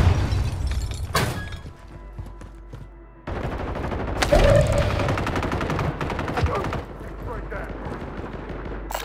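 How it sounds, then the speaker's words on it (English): A stun grenade goes off in a video game firefight, a sudden loud bang among rapid gunfire bursts and crackling, followed by a renewed burst of noise and continuing shots, with voices in the mix. "Stun grenade out!"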